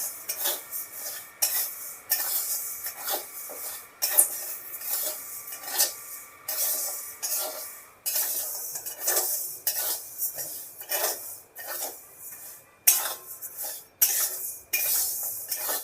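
A spatula scrapes and clatters against a kadai as ingredients are dry-roasted and stirred, in repeated rhythmic bursts of metallic scraping with short pauses between strokes.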